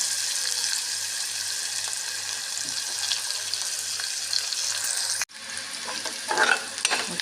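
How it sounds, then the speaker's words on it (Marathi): Onion, mustard seeds, cumin, asafoetida and curry leaves fry in hot oil for a pea curry, a steady close sizzle that breaks off sharply partway, then resumes with louder crackles and spatula stirring. "कांदा भाजून घेतो चांगला"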